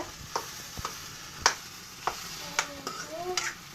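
Boiled potatoes and taro fry in a pan with a steady low sizzle, broken by scattered sharp clicks and scrapes from stirring.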